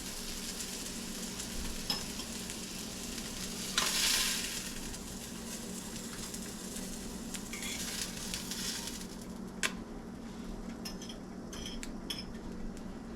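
Blackened speckled trout fillets frying in a pan, a steady moderate sizzle with a few utensil clinks and one louder burst of spattering, close by and without voices.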